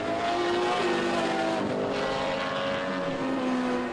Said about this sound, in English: You know you're in presence of a V12 with that noise